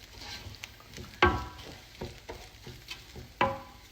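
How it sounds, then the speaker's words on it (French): Rice toasts dry in a pan at the start of a jollof rice, giving a soft, steady sizzle and crackle broken by a few louder scraping stirs, close and quiet with no talk. "Je vais juste essayer de griller le riz un tout petit peu pendant environ"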